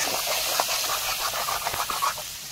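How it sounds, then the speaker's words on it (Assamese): Chicken pieces fry in a pan with ginger, garlic and green chili, giving a steady, fairly close hiss with scattered light crackles and pops throughout; no one speaks. "এইফালে মাংস খুব ধুনীয়াকৈ ভজা হৈ আছে চাওকচোন"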